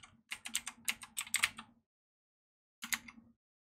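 Rapid typing on a computer keyboard: a quick burst of crisp key clicks for under two seconds, a pause, then a short second flurry of taps, close and clear with no talk.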